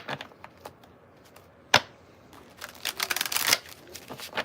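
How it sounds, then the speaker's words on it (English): A deck of tarot cards shuffled by hand during a reading: a sharp snap, then a run of dense, rapid riffling flutters that swell louder toward the end, close and alone with no talk. "Let me just shuffle it real quick."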